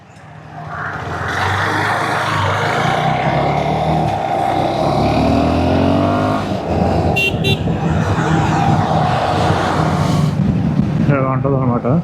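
A motorcycle engine hums steadily while riding, picked up from inside the helmet with constant wind rush, a brief horn toot partway through, and speech at the end.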